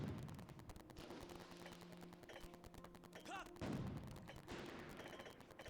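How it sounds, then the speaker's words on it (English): Several heavy cannon booms fire in sequence amid video game sound effects from Zelda: Skyward Sword and a short grunting voice from Link, fairly faint overall. "It's just me goofing off and practicing my cannon fire."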